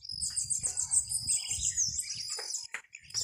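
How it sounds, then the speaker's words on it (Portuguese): A small bird perched on a wire at a countryside smallholding sings a bright, rapid, high twittering phrase close by, repeating in quick bursts with a faint low rumble beneath. "Passarinho cantando, olha que bonito."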